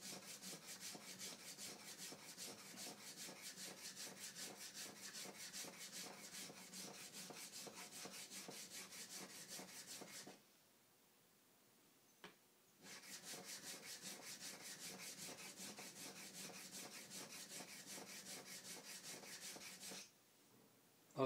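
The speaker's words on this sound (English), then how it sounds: "I'm going to go ahead and reestablish that shiny bevel on this kanna blade" Kanna plane blade sharpened on a Nakayama natural stone, a steady rhythmic scraping rub of steel on stone, close and continuous, pausing briefly around the middle before resuming.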